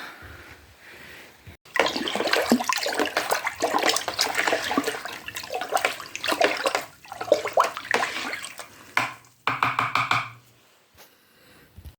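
Liquid pesticide mixture with Actellic being stirred for spraying strawberries in a greenhouse, a continuous close sloshing and splashing of water with irregular swirls, ending in a few lighter drips and taps.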